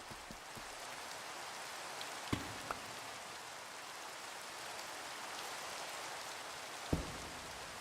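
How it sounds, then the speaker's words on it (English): Steady rain patters continuously across the whole stretch in the video game Minecraft, a dense hiss with a couple of louder drips or taps standing out. "I wish it wasn't raining."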